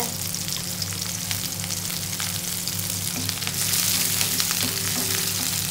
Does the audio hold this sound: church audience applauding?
no